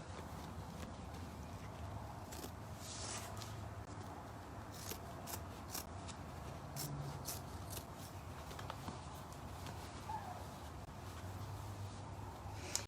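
Scissors cut upholstery fabric on a chair seat toward the center of a post, faint repeated snipping at a steady rhythm over low background noise, close by.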